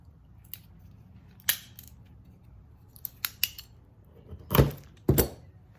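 Pruning shears cutting lengthwise down a small piece of wood, a series of sharp crunching snips and cracks at irregular intervals, the loudest two close together near the end, over quiet background.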